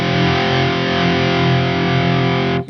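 Electric guitar played through a Marshall ShredMaster distortion pedal, a loud, thick sustained distorted chord ringing steadily before being cut off abruptly near the end.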